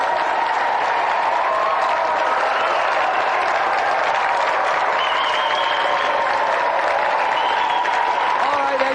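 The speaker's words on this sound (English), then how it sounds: "Round of applause for our 3 challengers." Studio audience applause on a 1993 television video-game show, a steady, loud wash of clapping from a crowd that continues throughout without letting up.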